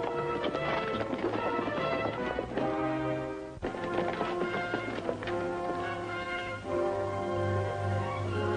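Hooves clatter in a fast rhythm of galloping horses beneath loud dramatic music from a 1949 film serial, with a brief whinny partway through.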